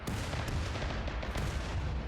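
Gunfire in the colony-defense game RimWorld: a dense, steady barrage of rapid overlapping shots forming a continuous crackling roar, loud throughout with no pauses.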